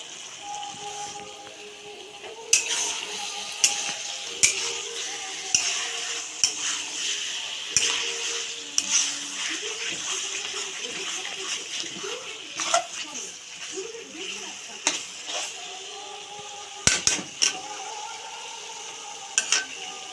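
Meat stir-fries in mustard oil in a pot, a soft steady sizzle broken by scraping stirs and occasional sharp knocks of the ladle, with people talking over it throughout.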